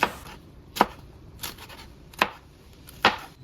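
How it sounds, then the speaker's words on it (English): Four sharp, evenly spaced knife chops through an onion on a cutting board as it is diced into cubes, crisp and close with quiet gaps between strokes. "you're gonna cut some horizontal lines on top of those vertical lines to turn them into cubes, just like this"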